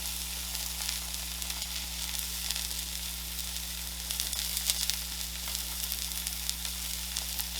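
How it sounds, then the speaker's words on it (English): Pork chops sizzle steadily in a hot pan, a constant bright crackling hiss that stays loud throughout with a faint low hum beneath. "Always should hear that sizzle whenever you're cooking."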